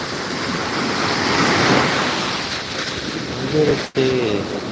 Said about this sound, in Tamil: அலை வருது எந்திரிச்சு காலை டச் பண்ணிட்டு போய்விட்டது